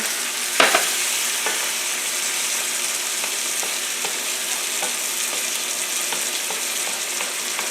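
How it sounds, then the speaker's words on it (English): Sausage deglazing in a hot pan for dairy-free sausage gravy gives off a steady, close hiss and sizzle, opening with a sharp burst as liquid hits the metal, then a continuous bubbling fry with light stirring. "nice hot pan deglazes a lot better than a cooler pan"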